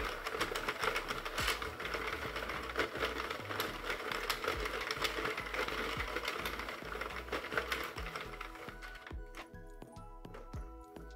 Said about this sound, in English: I'm just going to crank another round until everything starts falling off of the